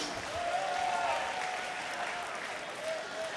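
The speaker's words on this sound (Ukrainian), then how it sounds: "Оплески, будь ласка, цим бійцям за неймовірний поєдинок." A crowd at a combat-sports fight night applauds the two fighters after their bout; the clapping is faint and distant, a soft, continuous wash that lasts a few seconds.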